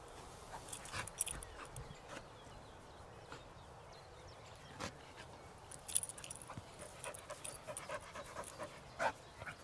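Appenzeller Sennenhund female dog panting quietly indoors, a steady soft rhythmic breathing with occasional jingle of tags or keys, faint and close.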